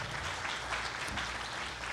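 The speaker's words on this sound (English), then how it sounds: "Give her a round of applause." An audience at a hacker conference session claps briefly and steadily, a dense, moderately loud patter of many hands with a low hum underneath and no talking.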